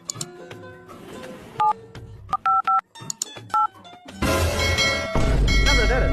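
Mobile phone keypad tones during an emergency call to a sister: a quick series of short dialing beeps under talk, followed by a louder steady wash of line noise.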